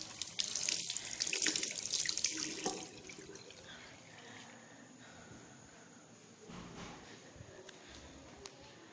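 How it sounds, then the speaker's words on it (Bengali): Tap water runs while someone washes their hands, a close splashing hiss that fades to a softer trickle, with a faint steady insect chirp in the background. "তো হাতটা একটু ধুয়ে নিই।"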